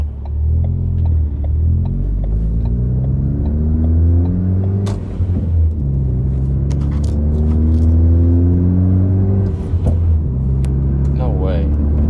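A Ford F truck engine and turbo accelerate uphill under load, a loud, close, droning tone climbing steadily in pitch over about twelve seconds, with a faint whistle near the end.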